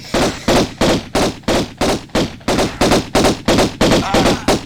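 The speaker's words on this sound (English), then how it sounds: "Just keep shooting at him." Rapid game gunfire from the Tomb Raider video game, a fast regular burst of about a dozen loud, sharp shots in steady rhythm with no talk over it.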